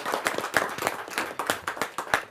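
A small audience at a Hindi kavi sammelan poetry gathering claps to welcome a poet, with uneven, fairly close hand claps in a loose rhythm and no talking over them.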